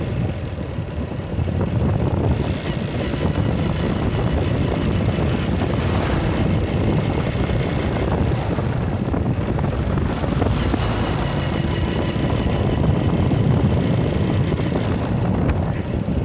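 Wind blowing during a road trip in Laos, from Xepon toward Phin, as a steady loud roar and rumble of rushing air and travel noise throughout, with no clear speech.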